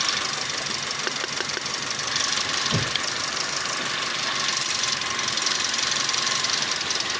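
A Toyota Vios dual VVT-i engine runs with a misfire after its camshaft part came loose, giving a steady, close, loud mechanical drone with an uneven knocking beat. No one speaks.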